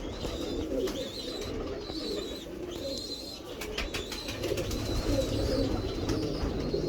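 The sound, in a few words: pigeons cooing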